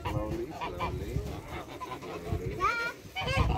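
Geese being fed on a farm honk repeatedly nearby, with several overlapping calls mixed in with people talking.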